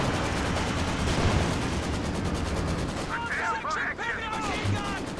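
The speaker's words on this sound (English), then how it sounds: "He lands so many shots in a row" Battle sounds from the Company of Heroes 2 strategy game: a dense, continuous wash of gunfire and explosions throughout, with tonal chirping effects rising in the second half, loud and steady.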